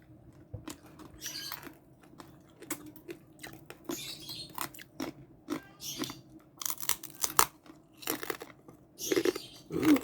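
Crunchy roast lechon belly skin being chewed up close, a steady run of sharp brittle crunches with short pauses between bites and no talk.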